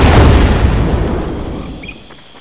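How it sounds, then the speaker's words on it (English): A booby trap explodes in the World War II shooter Medal of Honor: Pacific Assault: one loud, close boom with a broad rumbling burst that slowly dies away over about two seconds, with no voices. "They booby-trapped the place, Frank!"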